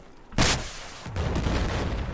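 A sudden loud explosion blasts against a tank in the Battlefield 4 video game, followed by a sustained rumbling roar of gunfire and debris.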